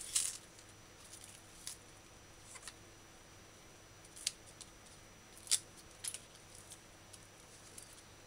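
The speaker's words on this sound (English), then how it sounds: "cut off ends, cut root end off, and the tip of the leaf that's dying" Scissors snip through scallion root ends and dying leaf tips, a handful of quiet, sharp cuts spaced irregularly over a faint background hum.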